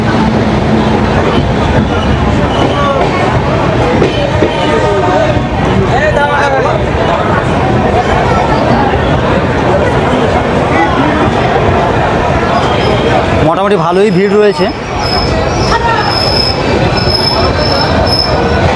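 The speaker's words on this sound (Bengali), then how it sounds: "যেহেতু সাইরাং এক্সপ্রেসটা কামাখ্যার উপর দিয়ে যাচ্ছে" Sairang Express passenger train running on the tracks, heard from inside the coach as a loud, steady rumble and rattle of wheels with a squealing stretch near the end, while someone talks over it throughout.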